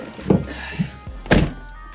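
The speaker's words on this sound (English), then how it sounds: "Close this door." A car door on a Dodge Charger dealership visit closes with a couple of soft knocks and then a solid, close thunk, with a low hum in the background.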